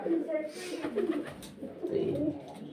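Soft, low cooing from pigeons close by, repeated in gentle rolling phrases.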